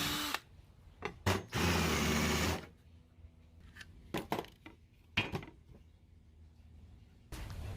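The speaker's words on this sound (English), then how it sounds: "So I'm drilling holes every 16 inches or so with the countersink, so I can attach it to the wall." Power drill with a countersink bit boring holes in an aluminum frame for a van cabinet, heard in several loud, steady bursts of whining and grinding, one run lasting over a second, separated by quieter clanks and handling noise.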